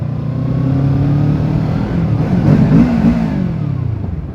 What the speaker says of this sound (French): le pot d'échappement marche très bien